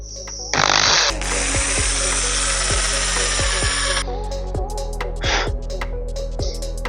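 A power drill bores into a brick garden wall, a loud close high-pitched whine of several seconds broken by scattered clicks and knocks, with a quieter motor hum before and after.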